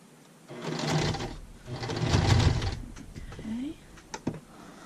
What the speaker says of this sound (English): I sew all the way around it, but I like to sew the open edge first